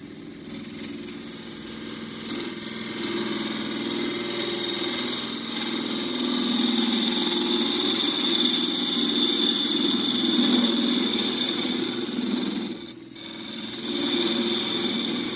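Detail gouge cutting the base of a jarrah burl pot spinning on a wood lathe, a steady close rushing scrape over a low motor hum, with a brief dip near the end.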